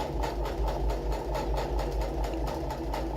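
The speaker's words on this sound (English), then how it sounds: "what I'm doing right now is basically a top stitch" A sewing machine running a top stitch with heavy 100% nylon thread meant for leather and vinyl, a steady, close, rapid mechanical whir with a fast even pulse and no talk.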